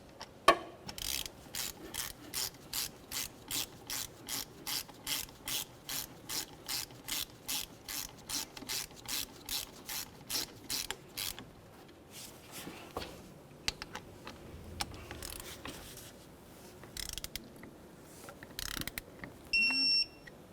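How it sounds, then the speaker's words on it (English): A ratchet with a 12mm socket snugs a brake caliper bolt on a 2009-2010 Pontiac Vibe, giving a quick run of sharp, evenly spaced clicks that stop, followed by a few scattered metallic clinks and handling noises. "Now let's use a 12mm socket to snug this up"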